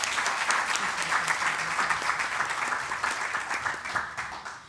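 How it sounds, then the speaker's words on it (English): A crowd applauds steadily for several seconds, dense clapping that gradually fades toward the end. "please give a round of applause for our amazing volunteers"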